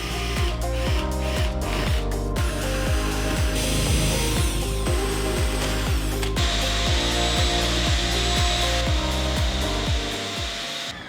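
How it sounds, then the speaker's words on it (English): A drill bores holes through the wooden casting deck of a 14-foot jon boat, producing a loud, close, continuous grinding whir with a steady rhythmic pulse throughout. "and then drill the holes out"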